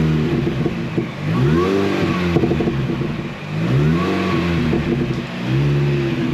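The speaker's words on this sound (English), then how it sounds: "Let's give it a rev." Car engine revved repeatedly after an intake hose repair, rising and falling in three distinct swells of mid-pitched engine roar, loud and close with no talking.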